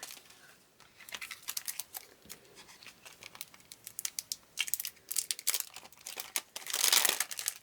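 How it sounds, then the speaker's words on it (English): Crinkling and tearing as black gold-foil placeholder packaging is ripped open, a close series of sharp crackles and rustles building to a louder rip near the end, no speech. "I'm really bad with opening these, so I'm just going to rip right into it."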